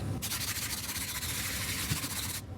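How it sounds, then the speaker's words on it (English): Quick, light hand sanding of a fiberglass-covered paddle with sandpaper, a steady close scratchy rubbing that runs continuously for a couple of seconds, then stops abruptly. "I'm just going to give it all a really quick light sanding"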